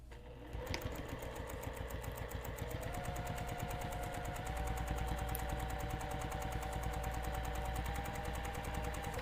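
A sewing machine runs steadily for most of the stretch, its rapid needle stitching a gently curved fabric edge as a panel is guided through by hand, close and even-paced after a brief start.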